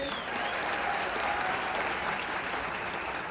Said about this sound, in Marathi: एकदा जोरदार टाळ्या वाजायच्या विचारांच्यासाठी